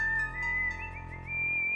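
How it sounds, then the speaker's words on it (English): Character whistling in the Space Quest 6 video game, a clear melodic whistled tune of several sliding notes over a low steady hum, moderately quiet and alone. "Nice bit of whistling."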